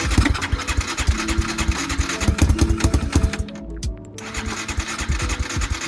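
A Lifan ZS175FMN motorcycle engine, swapped into a Lifan KP Mini 300, runs loud and close after a cold start, with a rapid uneven chugging idle and a brief dip in the middle before it picks back up.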